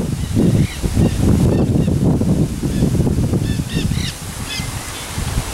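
A duck honks repeatedly in short, loud, close calls over heavy low rumbling background noise, a few bursts bunched together then tapering off.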